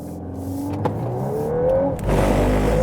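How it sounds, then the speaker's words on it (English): A 2022 VW Golf 8 R Variant in drift mode with ESC Sport, engine note rising and falling with a whirring tone, a couple of sharp clicks, and a louder surge of low rumble near the end. "you heard that, you know, braking intervention"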